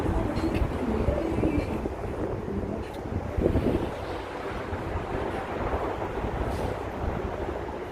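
Strong wind buffets a microphone while walking through Jackson Heights, Queens, making a loud, continuous rumbling roar that swamps the street sound for the whole stretch.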